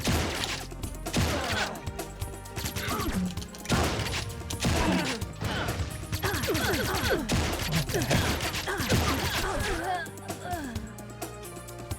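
Gunfire in the game Dead Gaem: a dense, continuous run of rapid shots under a busy mix of music and game effects, with a voice talking over it throughout.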